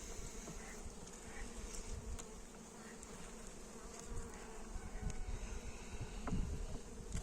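Bees swarm in a densely packed, opened beehive, making a continuous low, dense buzz that fills the whole stretch at a fairly soft level.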